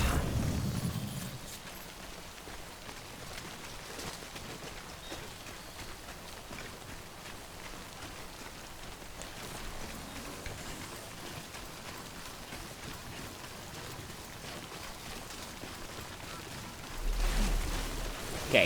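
Steady rain in the Death Stranding video game, a continuous soft hiss of drops falling across a muddy riverside landscape, with a louder low rumble at the start and near the end.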